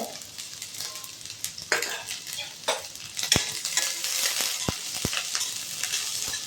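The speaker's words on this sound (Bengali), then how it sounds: "এই পেঁয়াজটাকে এবার ভাজবো" Onions frying in a little oil in a pan, a close sizzle broken by spatula scrapes and several sharp metallic taps against the pan.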